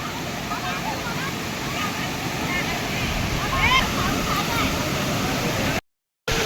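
The Pen Kasmal waterfall in hilly countryside gives a continuous, broad rushing roar nearby, and voices speak over it.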